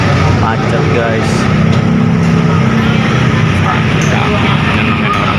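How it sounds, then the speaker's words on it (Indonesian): Vehicles stuck in congested traffic at a roadside market, with a steady dense wash of engine noise and street bustle throughout and people talking over it. "Suasananya macet guys."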